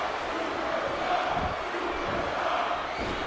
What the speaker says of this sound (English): You can hear those chants throughout the whole building.